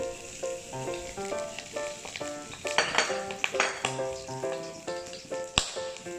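Garlic and onion hitting hot oil in a pan for corned beef with potato, sizzling steadily up close with scattered clinks and scrapes of a utensil, no talk.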